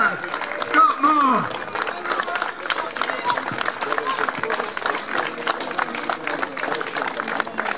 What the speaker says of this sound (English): Big round of applause, people, please.